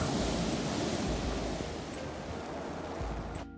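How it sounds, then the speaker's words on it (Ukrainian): Waves wash onto the shore in a broad, rushing roar that eases slightly before cutting off. "На морі Вітер несе хвилі на берег."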